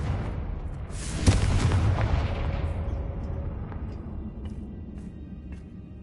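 A Confringo spell explodes in Hogwarts Legacy with a sharp, heavy boom that rolls into a long rumbling burst and slowly fades away.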